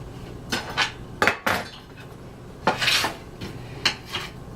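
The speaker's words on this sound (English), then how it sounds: "Chop up your cilantro." A knife chops fresh cilantro on a board in scattered, sharp, close strikes, some doubled, with scraping and soft rustling between them and no talk.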